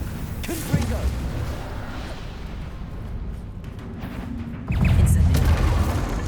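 Repeated Confringo fire-blast spells in the video game Hogwarts Legacy, heavy rumbling booms over a dense background with a loud surge of blasts near the end, with speech mixed in.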